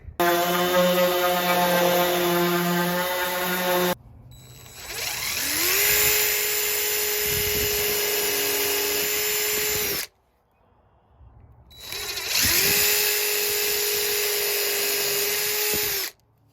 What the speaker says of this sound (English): We're using a sander, DeWalt sander.